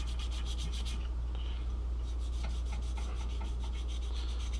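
Cloth scrubbing over a freshly dyed tomahawk handle to wipe off excess dye, a steady close rubbing rasp with quick repeated strokes throughout, no talking.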